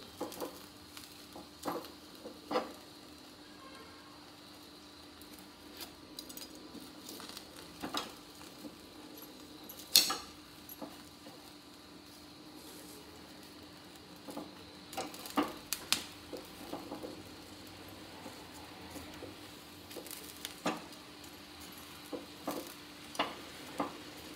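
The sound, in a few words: onion and garlic roasting in a pan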